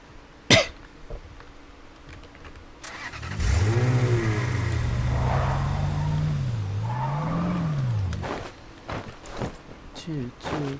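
A car engine in a video game revs up, its pitch climbing and dipping for several seconds over a steady drone, with a sharp cough-like knock before it and scattered clicks and thumps afterward.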